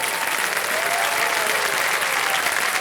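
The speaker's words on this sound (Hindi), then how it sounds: "नाम सुनते ही बहुत सारी तालियां बज गई" Studio audience on the KBC quiz show set bursts into steady, dense applause, many hands clapping continuously at close range with no talk over it.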